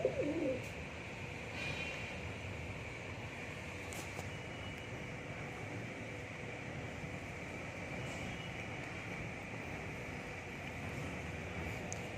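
Pigeons cooing softly, faint and somewhat distant over a steady background hum, with a brief louder sound right at the start.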